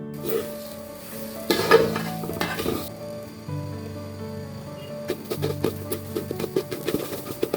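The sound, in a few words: frying pulao rice in a pan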